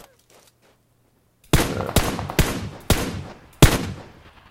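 Loud Uzi gunfire in a video game, arriving as five sharp, heavy bursts about half a second apart after a quiet opening. The shots ring close and dominate, with no talk over them.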